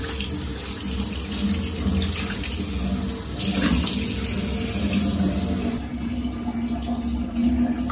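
Water runs steadily from a tap for the whole stretch while someone rinses their face at a sink as part of a bedtime skin-care routine, a loud, close, continuous rush with a slight shift in tone partway through.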